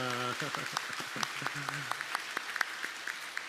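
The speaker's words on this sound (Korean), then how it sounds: "한번 우리 박수하겠습니다." A church congregation claps during a Sunday worship service, a scattered burst of applause with a few voices speaking over the start before the clapping settles into a steady patter.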